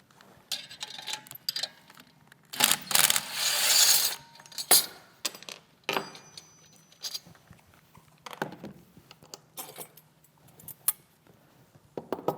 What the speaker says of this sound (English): First thing I'm going to do is remove the seal guard and the shaft guard.